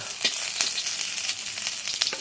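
Cauliflower florets frying in oil, a steady close sizzle with crackling pops scattered across the whole stretch, no voices.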